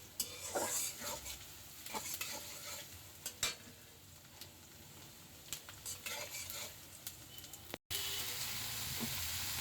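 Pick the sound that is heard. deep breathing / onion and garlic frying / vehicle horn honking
onion and garlic frying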